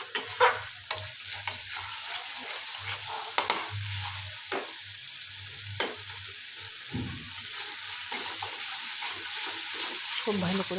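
Spice masala with turmeric, chilli powder and salt being sautéed in a pan for a prawn malai curry: a faint steady sizzle with occasional scraping stirs, quiet and close, no talking over it.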